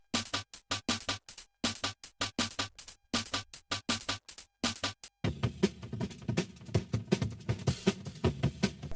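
Quirky, crunchy auxiliary drum hits from a hyperpop/glitchcore rap beat play in tight, bouncy bursts with sharp gaps, then give way to a denser, continuous crunchy drum pattern for the last few seconds.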